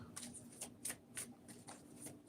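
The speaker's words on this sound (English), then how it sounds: "I'm going to keep shuffling it this way." A deck of cards is shuffled over and over in quiet, close bursts of riffling about every third of a second, with no talking.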